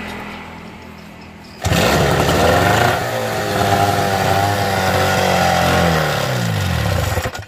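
An old Evinrude 12 hp outboard motor used on a small river boat starts abruptly after a quiet stretch, then runs and revs steadily at close range, its engine note rising and falling under a loud, continuous mechanical drone.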